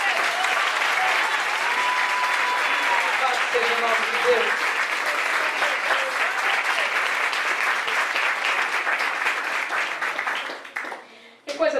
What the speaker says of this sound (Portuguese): Ah, dá palmas para Deus.